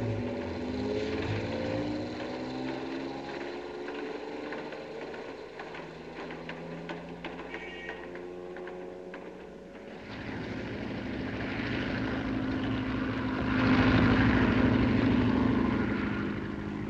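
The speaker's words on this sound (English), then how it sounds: "Plane to land." A propeller airplane engine drones steadily as the plane comes in to land near a windmill, a continuous rumbling hum that grows louder and fuller in the second half, with no voices.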